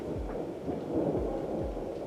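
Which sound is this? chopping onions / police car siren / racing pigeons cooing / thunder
thunder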